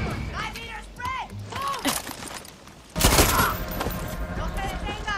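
A squad's gunfire volley in Far Cry 6 opens abruptly midway as a loud, sharp crackle of overlapping shots, following shouted commands and talk in the first half.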